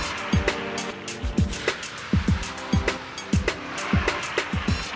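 A car without ABS brakes at full force in front of traffic cones with the clutch pressed, locking all four wheels; short, sharp low-pitched thumps and squeal-like bursts recur rhythmically over a steady broadband rush, fairly close.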